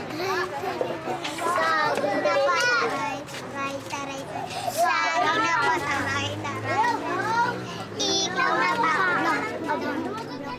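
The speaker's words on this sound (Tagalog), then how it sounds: "Pinaglalaro ko lang sila, grupo-grupo, kaya maingay yung mga bata namin dito sa pag-aaral." Schoolchildren play in groups in a classroom, a loud continuous babble of many young voices shouting, chattering and laughing at close range throughout.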